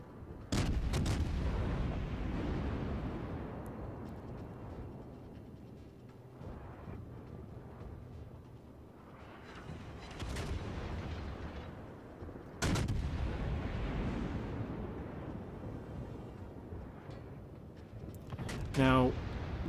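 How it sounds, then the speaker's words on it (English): Battleship guns fire in the naval combat game World of Warships, with several heavy, booming salvos that roll off into long low rumbles over a steady background of game noise. "the enemy is focus firing on this battleship"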